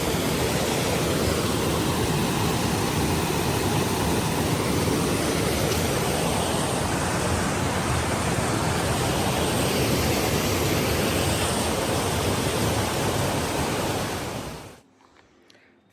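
Steady, dense rushing of flowing river water on a foothills trail, loud and continuous like nearby rapids, cutting off abruptly near the end.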